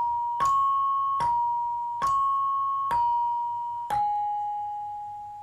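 Five evenly spaced metallic strikes on a Javanese gamelan saron barung play a slow balungan melody for lancaran Manyar Sewu, each bright note ringing out and decaying before the next, played alone.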